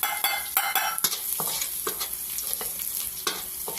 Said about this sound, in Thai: กระทะร้อนแล้วนะคะ แล้วก็ใส่กระเทียมสับลงไปนะคะ